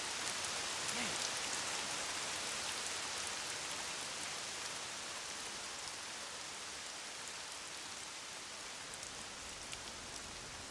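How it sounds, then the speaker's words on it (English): Steady rain falls in the video game Lost Odyssey, a dense, even hiss of drops pattering continuously on surfaces, moderately loud and alone. "Oh, great. It's raining."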